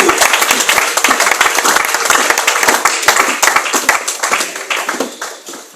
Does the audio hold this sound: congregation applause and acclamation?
yes